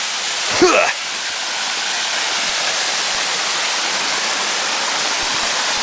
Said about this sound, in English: This is the first series of falls. This is the Golden Cascades.